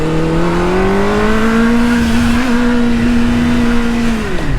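A Honda Hornet 600 motorcycle's exhaust drones steadily and loudly while riding, holding a sustained engine tone that rises slightly, then drops off as the revs fall at the end.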